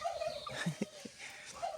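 A domestic turkey gobbles close by in a farmyard, giving a quick burst of rattling gobbles with a few softer clucks between them, fairly quiet overall.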